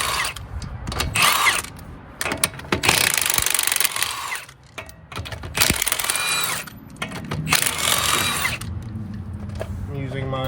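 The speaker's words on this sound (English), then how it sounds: "I'm using my trusty handy chrome impact socket" Chrome impact socket on a power tool loosening bolts on a Honda Civic during control arm work, with bursts of ratcheting, whirring rattle between pauses and some voice nearby.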